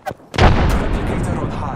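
A frag grenade goes off in Apex Legends: a short click, then a heavy, close blast whose rumbling tail fades over the next second and a half.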